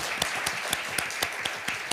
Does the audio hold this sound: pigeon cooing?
no